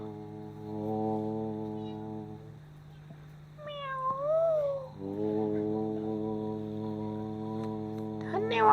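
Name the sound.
actor imitating a cat meowing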